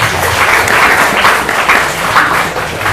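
Applause from an audience at an open examination in an Islamic boarding school madrasah, a steady dense patter of many hands clapping that holds for about three seconds without a break.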